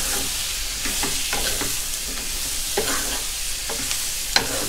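Pork belly stir-fried mala style, dry-fried with spring onions, sizzles steadily in a hot pan while a spatula scrapes and tosses it in repeated strokes, with one sharper clack near the end.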